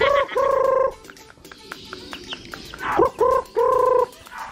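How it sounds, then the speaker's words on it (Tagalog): Chickens squawk and cluck loudly in agitated bursts as two roosters fight nearby, with harsh cries at the start and end and scuffling in between. "Naglalaban na yung dalawa nating manok doon."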